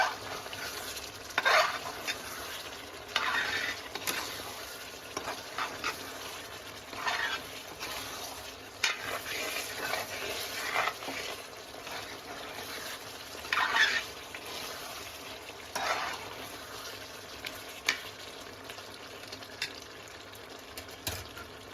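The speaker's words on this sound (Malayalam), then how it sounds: "ഇനി ഇതിലേക്ക് ടേസ്റ്റിന് മല്ലിയിലയും കറിവേപ്പിലയും കൂടിയും ലാസ്റ്റായിട്ട് ഒന്ന് ആഡ് ചെയ്ത് ഒന്ന് ഇളക്കി കൊടുക്കാം." Chicken curry being stirred in a pot after coriander and curry leaves go in, with soft scraping strokes and a low simmering sizzle recurring every few seconds, fairly quiet and with no talking.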